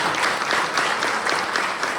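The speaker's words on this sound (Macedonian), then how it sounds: "Дајте им еден голем аплауз." Sustained audience applause fills a hall at a ceremonial gala marking 80 years of the KUD Tashe Miloshevski folk culture society. It is dense, steady clapping from a large crowd, heard close and without pause.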